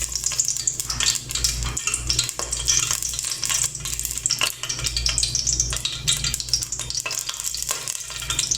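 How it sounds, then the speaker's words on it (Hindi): Chicken nihari cooking as ghee hits a hot pan, giving a steady, loud broadband sizzle and frying hiss throughout, with a low hum underneath and occasional faint scrapes of stirring. "यहाँ मैं घी डालूँगी। मैं घी डाल रही हूँ।"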